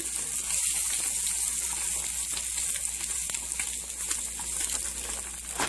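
Two eggs fry in a pan with a constant loud sizzle and crackle, a steady hissing wash with small pops scattered throughout and no talking.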